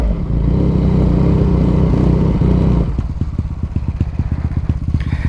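A 70cc motorcycle in a street drag race roars with a steady, loud engine drone, then cuts back to a rough, sputtering idle with rapid popping pulses as the throttle is released.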